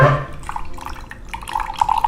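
Brewed coffee, a blend of Arabica and Robusta, poured into a mug, giving a short run of close, bright liquid trickles and gurgles with no talking.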